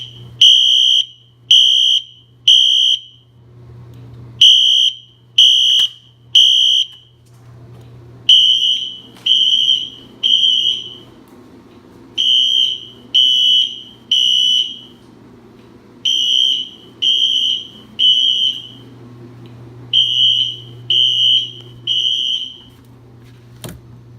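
A fire alarm, set off from a pull station during a system test, sounds in loud repeated bursts of a high electronic tone, cycling in groups of three over a steady low hum.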